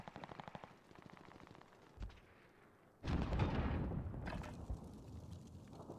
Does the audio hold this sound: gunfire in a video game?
yes